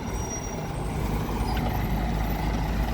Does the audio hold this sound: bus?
yes